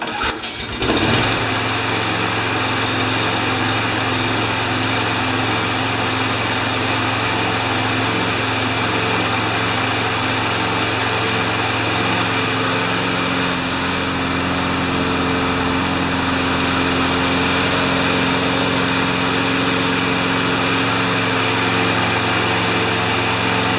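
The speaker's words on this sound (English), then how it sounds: "Repowered with a Toro Quantum Briggs & Stratton engine the same size as the one that was blown in this mower" A Toro Quantum Briggs & Stratton engine, fitted as a same-size replacement for a blown engine on a John Deere JS25 walk-behind mower, fires up and runs at a steady, loud, buzzing idle.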